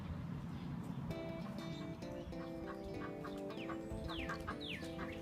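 A flock of farm chickens clucking and squawking at feeding time, a dense steady chorus of overlapping calls nearby with occasional rising squawks, set against a constant low outdoor background.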